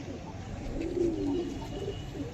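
A pair of rare pigeons coos close by, a low, throaty rolling call swelling through the middle and tapering off, over a steady background hum.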